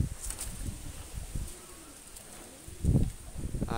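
A pair of Pakistani pigeons coo softly in a few low, breathy bursts, with a louder flurry near the end, some faint rustling in between and no clear talk.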